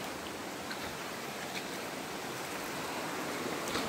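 Steady broadband rushing of flowing water, constant and fairly close, with no voices.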